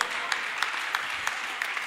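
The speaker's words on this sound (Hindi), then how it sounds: "एक बार जोरदार तालियां दोस्तों" Brief burst of audience clapping at a Hindi poetry recital, a moderately distant crowd with a few sharper claps standing out in a steady patter.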